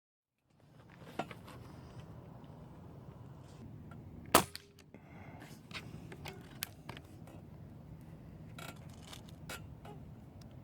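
A single sharp crack of a Benjamin Fortitude air rifle shot hitting a cardboard box target, followed by faint mechanical clicks and handling sounds over a low steady hum.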